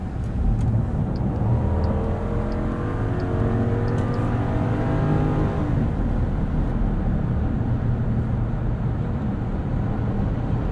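The 6.4-liter Hemi V8 of a 2022 Jeep Grand Wagoneer Obsidian pulls hard under acceleration, heard from inside as a deep, rising engine drone that climbs steadily and then levels into a smooth cruising roar, with no speech.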